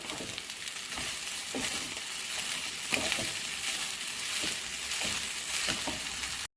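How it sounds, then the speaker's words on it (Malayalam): Cooked rice being stirred into scrambled egg in a hot pan for Kerala-style egg rice, a steady close sizzle with soft, regular scraping strokes every second or so throughout. "ഇതിലേക്ക് നമുക്കിനി ചോറ് ചേർത്ത് കൊടുക്കാം. നന്നായിട്ടൊന്ന് യോജിപ്പിച്ച് കൊടുക്കാം."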